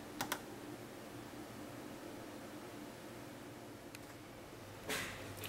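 Buttons pressed on a Korg Pa50SD arranger keyboard, a few faint isolated clicks spaced apart over a steady hiss of background noise.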